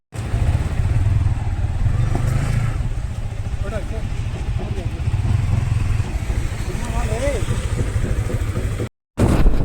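A Yamaha MT-15 motorcycle on its delivery day runs nearby with a steady low engine rumble, voices talking over it, and a short cut in the sound near the end.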